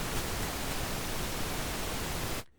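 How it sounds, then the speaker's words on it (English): Pink noise from the first oscillator of a Hive 2 software synthesizer in two-voice unison, a loud, steady hiss spread evenly across the range, cutting off abruptly near the end. "switch out this first oscillator here with pink noise"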